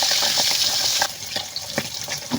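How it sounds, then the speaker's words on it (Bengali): Fish frying in hot oil in an iron wok gives a loud, close, crackling sizzle with bursts of spattering throughout. "তেলটা গরম হয়ে গেছে, আমি এখন সব মাছ আস্তে আস্তে ভেজে নেব।"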